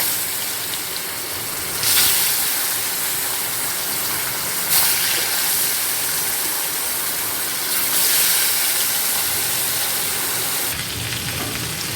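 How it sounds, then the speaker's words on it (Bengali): Fish frying one piece at a time in hot oil with turmeric gives a loud, steady sizzle and hiss. The sound swells in bursts as each piece goes into the pan, with no talking. "এবার একটা একটা করে মাছগুলো ছেড়ে ভেজে নেব।"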